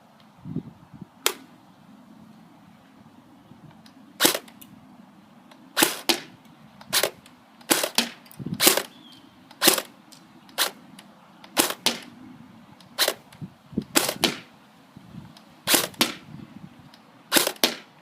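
Airsoft gun firing BBs at a target during an inner barrel test comparing steel, aluminum and brass, with the hop-up switched off: a string of sharp, snappy pops at irregular intervals, some close together, over a low background rumble, no talking.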